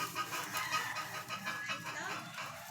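A chicken clucking nearby, soft repeated clucks over rustling background noise, moderately loud and fairly continuous.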